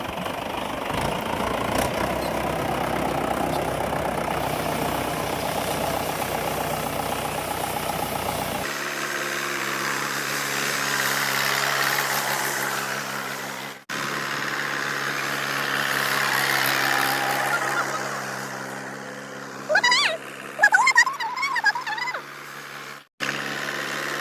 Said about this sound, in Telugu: ఇప్పుడైతే ప్రజెంట్ ట్రాక్టర్ తీసుకొచ్చి ట్రాక్టర్తో అయితే ఏ విధంగా తొక్కిస్తాము చూడండి